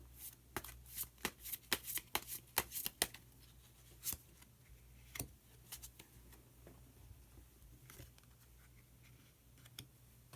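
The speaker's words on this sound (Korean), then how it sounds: "히든 카드를 한 장 더 뽑아보도록 하겠습니다" Tarot cards are shuffled and drawn, with quick crisp riffling bursts early on followed by sparser single card snaps and slides, close and quiet with no talk.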